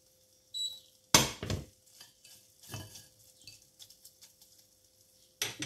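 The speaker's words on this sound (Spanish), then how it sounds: "Vamos a ponerla en un bol con un colador, la escurrimos para que no se nos quede con nada de aceite" Oil-soaked confit onion tipped from a pan into a colander set over a bowl, with a sharp clattering splash followed by softer wet shuffles and light metallic knocks, then another clatter at the end.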